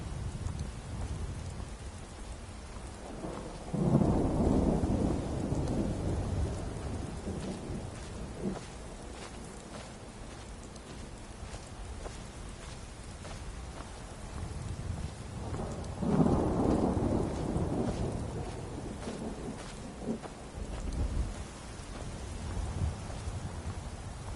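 Steady rainfall from a Skyrim storm near Whiterun, with two deep rolling thunder rumbles swelling up several seconds apart over a constant hiss of rain on surfaces.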